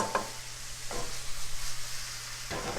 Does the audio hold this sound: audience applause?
no